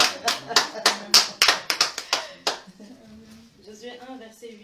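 A congregation claps during a church service, with a run of sharp, fairly close rhythmic claps that stop partway through, after which voices and singing carry on.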